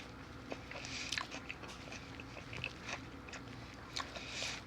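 Someone bites into a barbecue sandwich with pickles and barbecue sauce and chews it with soft crunching and wet mouth sounds. The sounds are close and quiet, with no talking.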